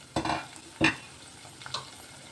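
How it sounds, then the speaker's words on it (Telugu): Goat spleen frying in oil in a pan with chilli and paste. It gives a low continuous sizzle broken by three distinct scraping stirs of a spoon, two close together early and a fainter one near the end. "ఆయిల్లో ఫ్రై అయిపోయింది తిల్లి"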